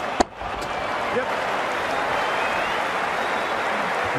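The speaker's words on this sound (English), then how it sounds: "It's going to be hard for the bowler to focus with the crowd this excited." A crowd in a cricket video game cheers and applauds after a big shot. A sharp crack opens a sustained, dense wash of crowd noise at even loudness, with no clear speech over it.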